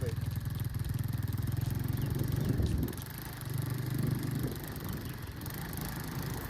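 A small BMX Cub motorbike engine hums steadily close by as a beginner rides slowly, its low drone rising and dipping a little, with occasional voices.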